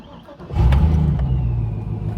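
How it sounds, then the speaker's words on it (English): A supercharged sleeper work van starts or revs with its exhaust cutout open, a sudden loud, deep rumble kicking in after a quiet moment and holding strong and close. "I hit the cutout button."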